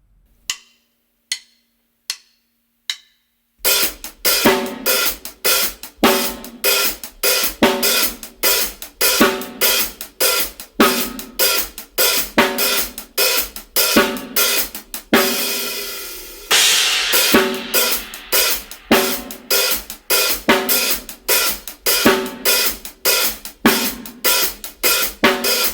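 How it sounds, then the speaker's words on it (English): Drum kit groove, snare backbeat over hi-hat, opening with a few sparse count-in clicks before a steady, loud, close pattern of sharp hits runs throughout with one brief break midway. "so the snare and the hi-hat"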